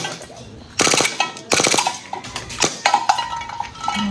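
An airsoft Glock 18 gas blowback pistol fires, with a rapid full-auto burst of sharp cracks and then a few single semi-auto shots, loud and close, with faint background voices.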